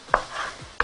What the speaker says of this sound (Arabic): فقبل ما اشوحه هقطعه بس حتة صغنون